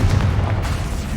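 A Confringo fire spell explodes in the Hogwarts Legacy video game: one deep, loud boom with a rumbling low burst that fills the whole short moment.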